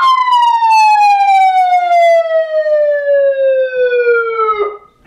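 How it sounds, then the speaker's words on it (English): Electronic wail from a YS-100A siren amplifier driven through a 100-watt speaker, a loud single tone with strong harmonics sweeping steadily downward for about five seconds, then cutting off abruptly. "It has a manual siren."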